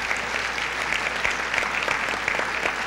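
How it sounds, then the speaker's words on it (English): A crowd at a conservative political conference claps for Monsignor Frank Hendrick after his invocation, even applause with individual sharp claps standing out, heard at a moderate distance. "Shall we give a little applause to Monsignor Frank Hendrick?"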